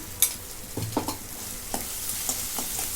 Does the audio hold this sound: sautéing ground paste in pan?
yes